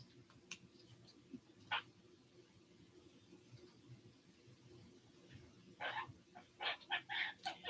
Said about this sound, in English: Let me put the birds on for Castle.